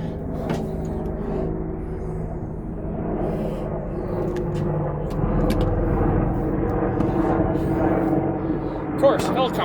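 Steady low mechanical rumble of a helicopter passing overhead, droning continuously with faint voices talking in the background.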